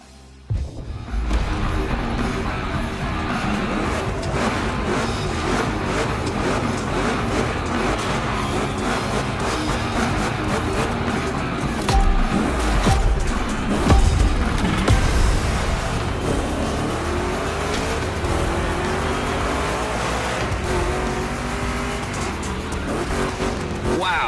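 Two Chevy big block cars race in The Crew Motorfest, engines roaring loud and steady throughout with rising and falling revs and occasional tire squeal on rough turns.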